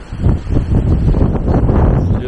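Gusty wind roars steadily into the microphone as a storm dies down in Minnesota, a loud, continuous buffeting rumble with rustling and no talking.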